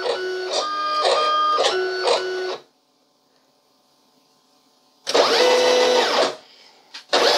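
A sticker printing machine runs in a small studio with a steady mechanical whir and rhythmic pulses. It stops for a couple of seconds, then starts again in a loud burst and winds down.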